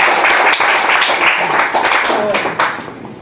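Audience applause at a lecture meeting on brain research: a steady, dense patter of many hands clapping throughout, with voices mixed in underneath.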